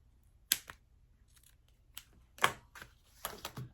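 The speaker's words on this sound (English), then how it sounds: "I'm going to fold this in half and make a little snip." Scissors snip a folded fabric slip pocket for a shoulder bag, giving a few sharp, quiet, separate cuts spaced irregularly, close and with no voices.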